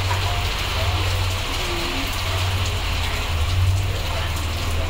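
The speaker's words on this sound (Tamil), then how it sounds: "மழை வேற வருது, கிளைமேட் செம்மையா" Steady rain falls at night in a dense, even hiss of drops on surfaces. The sound is constant and fairly loud throughout, with no voices over it.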